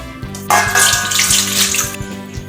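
Plain water is poured into a mixing bowl while making coconut steamed cake batter, a close, loud, continuous splashing gush with a low rhythmic gurgle underneath.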